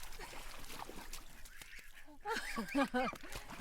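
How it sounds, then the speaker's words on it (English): Close, nasal Toulouse goose honks in a short burst of several calls, rising over a noisy background that has some talking mixed in. "we have the Toulouse geese in here with them now"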